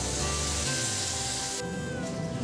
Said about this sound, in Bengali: এবার এই সমস্ত মশলাকে ভালোভাবে কষিয়ে